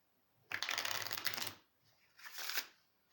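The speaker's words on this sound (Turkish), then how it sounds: "Karıştırıyorum hemen." A deck of playing cards is riffle-shuffled up close in two quick bursts, a dense fluttering rattle lasting about a second, then a shorter second riffle after a brief pause.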